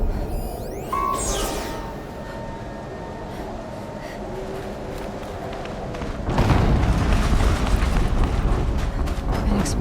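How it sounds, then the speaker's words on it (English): An explosion in the video game Horizon Zero Dawn erupts as a deep, broad rumbling blast partway through and lingers, over a low continuous game background. "An explosion."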